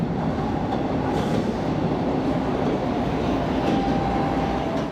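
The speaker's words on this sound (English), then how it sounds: "A train midway into the station." A train pulls into a station platform with a loud, continuous rumble and rolling wheel noise, plus faint clicks and brief squeals as the cars pass nearby.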